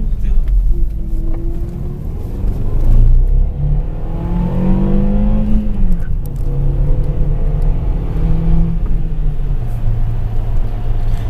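A Škoda Octavia accelerating through a village at about 50 km/h, the engine note rising through gears with a steady road rumble heard from inside the cabin, while people talk over it.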